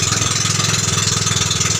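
A small outboard-style engine on a little wooden boat crossing to Olango, its short low exhaust giving a loud, rapid, steady putter that throbs evenly throughout at close range, with no talk.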